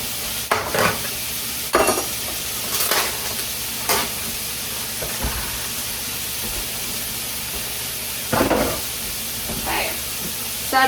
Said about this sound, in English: we are going to cook the pork